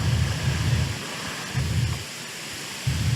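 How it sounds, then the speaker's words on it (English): Rain and thunder in the game Minecraft: a steady hiss of rainfall under deep rumbling thunder rolls that swell and fade in repeated bursts, with no voices. "And it's raining."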